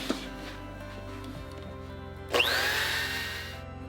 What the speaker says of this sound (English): let's get this sanded